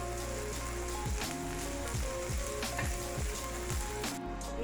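Shredded cabbage and grated carrot sizzle in a hot pan, a dense crackling hiss that runs steadily with scattered pops and a few clanks of a spoon, close and alone.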